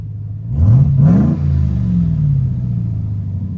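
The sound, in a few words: RAM TRX exhaust revving with tailpipe tips removed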